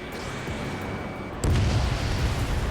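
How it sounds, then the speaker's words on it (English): A missile launch in Ace Combat 7 with an F/A-18E: a sudden loud whoosh-boom bursts in over steady jet engine roar and then sustains as a heavy rumble. "H2, missile launch."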